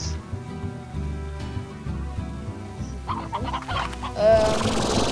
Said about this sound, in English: So yeah, there's chickens.